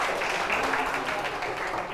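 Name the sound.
audience applause for winners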